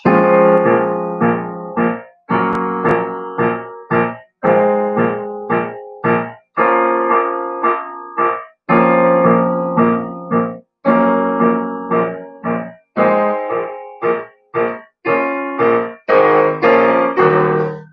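A piano plays the long-note accompaniment part for a wind band, with sustained chords repeated in a regular pattern. Each chord rings and fades before the next, and the sound is clear and solo with no voices.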